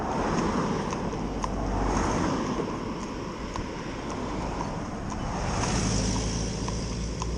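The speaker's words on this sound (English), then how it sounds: "A great big noise behind him, with two great big lorries going up." Two large lorries rumbling past on a road, a deep continuous engine roar with wind noise, steady and fairly close, swelling slightly as they go by, no talk.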